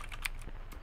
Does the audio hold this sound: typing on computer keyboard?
yes